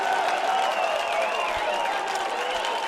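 At Flathead Field during a minor-league baseball game between the Glacier Range Riders and the Great Falls Voyagers, a crowd applauds in a steady wash of clapping and cheering, with a voice talking over it.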